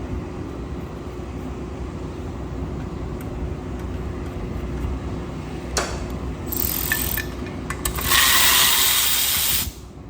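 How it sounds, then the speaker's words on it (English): A few screws are driven back into a lawn mower's small engine with a hand tool, giving faint ratcheting and mechanical clicks over a steady background hum. The clicks grow busier and brighter toward the end. "I'm just going to put the screws right back in here so we don't lose them"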